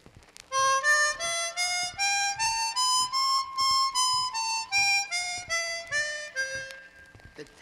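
A chromatic harmonica plays a scale, about fourteen clear single notes moving steadily up and then back down, each note sustained with a bright reedy tone, heard alone and close with no talking.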